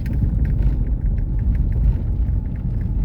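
A Renault Clio's steering or suspension gives a rapid, evenly spaced series of knocks over a steady low mechanical rumble, close and moderately loud.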